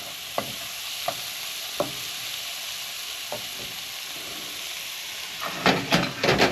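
Chopped onion sweating in a pan with red wine, giving a steady soft sizzle and hiss, broken by a few light clicks of stirring and a louder bubbling burst near the end, with no talk.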